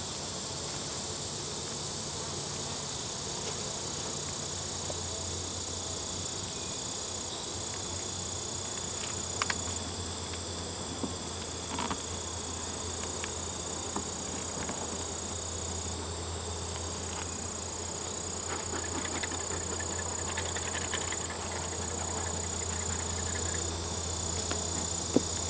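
Honeybees buzz steadily around an open hive during a colony inspection, a constant soft hum with a high whine layered over it and occasional faint clicks and taps, no voices.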